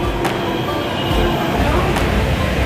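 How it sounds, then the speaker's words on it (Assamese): A Delhi Metro Blue Line train pulls into a busy station at evening rush hour, a steady rumbling roar with rail noise and a couple of brief higher squeals, crowd murmur faint underneath. "মেট্ৰ' আহি আছে, মেট্ৰ' আহি আছে, মেট্ৰ'ত উঠিম।"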